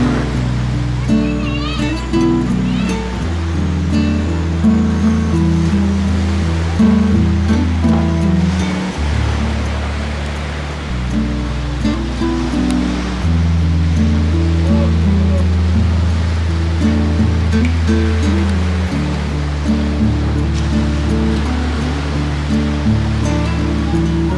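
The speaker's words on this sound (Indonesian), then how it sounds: "Inilah suasana malamnya, teman-teman. Pantai Mimilen, Singkawang." Night surf at Mimiland beach in Singkawang: steady, loud wave wash rushing continuously, with a low tonal hum or music running underneath throughout.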